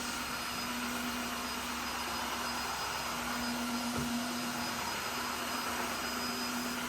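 A Tineco Floor One S3 wet dry vacuum cleans a floor, running as a steady whirring motor hum with a constant whine, close and continuous throughout with a brief bump midway.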